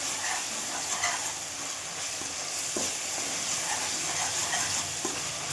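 Tomato masala frying in a pan for Andhra fish pulusu, a steady close sizzle and crackle running without pause, with a few soft stirring scrapes and no voices.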